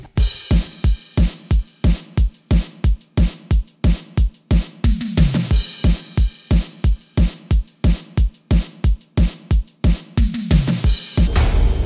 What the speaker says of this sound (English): And then the whole drum beat sounds like this.